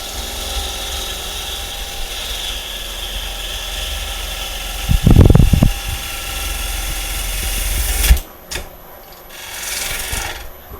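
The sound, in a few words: wood bowl being turned on a lathe with a scraper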